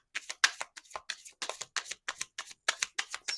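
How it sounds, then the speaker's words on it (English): A deck of tarot cards being shuffled in a steady run of crisp, riffling bursts, close and fairly quiet, with no voices. "we may have to pull some tarot to clarify these cards"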